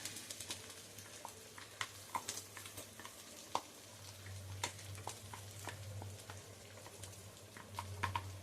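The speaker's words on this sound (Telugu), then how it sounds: "ఈ పేస్ట్ ఆయిల్లో కొంచెం మంచిగా మగ్గాలి." A ground paste of onion, tomato, poppy seeds, fennel, cumin and coriander powder fries quietly in oil. Faint, scattered crackles and pops sound over a low, steady hum, with no one speaking.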